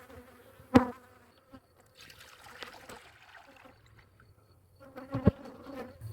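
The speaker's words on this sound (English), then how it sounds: "Bees are not happy with you poking around in their house." Honey bees buzz around an opened hive during feeding in a dearth, faint scattered buzzing with a couple of louder close passes near the start and end.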